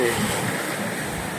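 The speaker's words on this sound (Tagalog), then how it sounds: "Ayan medyo matataas yung wave" Steady broadband wash of ocean surf at Bolinao, waves rolling continuously with a constant roar and no voices, fairly loud and close; the sea has turned choppy with fairly high waves.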